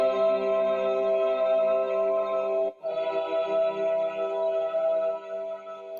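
Chorale melody played back from notation with a sustained synthetic tone, steady held notes with a brief break partway through, close and even, with no voices.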